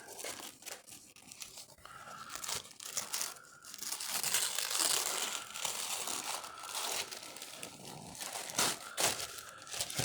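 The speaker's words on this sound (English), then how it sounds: "Now it's undo the wrapping paper." Gift wrapping paper is torn and crinkled open after the ribbon comes off, with close, irregular bursts of tearing and rustling that run on steadily without talk.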